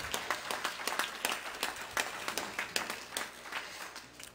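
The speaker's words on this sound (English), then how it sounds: "Let's give the Lord a hand clap of praise in the house." A church congregation claps in praise during a worship service, quick overlapping handclaps in loose rhythmic bursts, moderately distant and rising and falling in waves.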